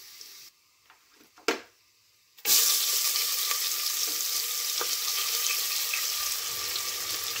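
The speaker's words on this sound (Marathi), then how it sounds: "आता ह्याच्यामध्ये घालते कांदा" Onion dropped into hot oil with whole spices for drumstick pulao, a few quiet clinks and then a sudden loud burst of sizzling that stays dense and steady up close, no talking.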